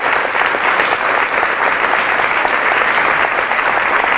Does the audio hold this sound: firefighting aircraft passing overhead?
no